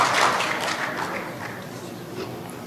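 Applause from an audience at an end-of-year ceremony for foreign students in Bejaia, a dense wash of clapping that starts fairly loud and gradually fades over a few seconds.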